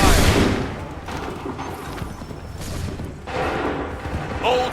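A ragged musket volley from a line of soldiers in Assassin's Creed 3 opens with a sharp burst, followed by scattered crackling shots and rumbling battlefield noise, fairly loud throughout.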